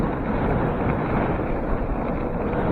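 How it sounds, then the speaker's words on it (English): Loud, constant wind buffeting the microphone while riding a 72v 5000w Stealth Bomber enduro ebike over rocky terrain, a dense unbroken roar with no talking. "The wind gets kind of loud."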